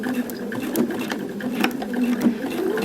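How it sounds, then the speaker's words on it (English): A sewing machine runs a quarter-inch stitching line, starting with a tiny back stitch, its needle chattering in a rapid, steady mechanical rhythm close by, with brief pauses and ticks. "we are planning the first stitching line. 1/4 of an inch away, always start with a little tiny back stitch."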